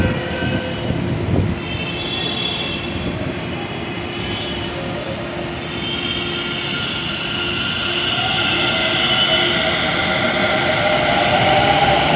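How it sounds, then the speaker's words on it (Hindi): A metro train rolls into a busy city station with a continuous rumbling roar, faint wheel squeals and a steady hum rising slightly as it arrives. "एक मेट्रो आ गई यहाँ से"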